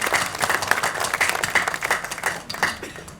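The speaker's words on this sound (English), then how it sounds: "Give him a round of applause because he was the mayor." Spectators at an electric vehicle charging station ceremony give a round of applause, with distinct individual claps from a modest crowd sounding close and fading slightly toward the end.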